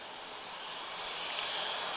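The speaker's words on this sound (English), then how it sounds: "Oh, beautiful touchdown there. So that's the A330neo, guys." An Airbus A330neo rolls out after touchdown at Lisbon Airport, a faint, distant broad engine roar that swells gradually and stays steady throughout.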